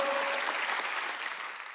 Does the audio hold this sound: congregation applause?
yes